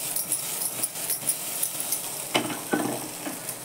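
Stuffed okra fries in a pan and is stirred, with a steady close sizzle broken by repeated scraping strokes and a couple of louder clattering stirs near the end, no voices.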